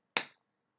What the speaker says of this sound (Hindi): अब आप अपने दोनों हाथों से एक ताली बजाएं।